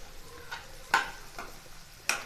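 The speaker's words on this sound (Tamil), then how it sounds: "இப்போ அப்படியே லைட்டாக கலந்து விட்டுறலாங்க." Soya chunks being fried in a pan are stirred lightly, giving a few sharp scraping clinks over a faint low sizzle, with no talking.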